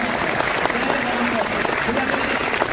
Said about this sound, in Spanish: quiero que le demos un muy fuerte aplauso al profesor Martín Krause